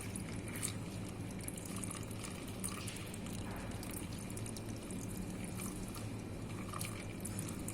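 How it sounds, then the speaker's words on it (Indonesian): Tap water runs over a glass slide in a bacteriology lab while it is rinsed during Gram staining. The flow is gentle, steady and continuous, with no voices. "kita bilas lagi dengan menggunakan air mengalir"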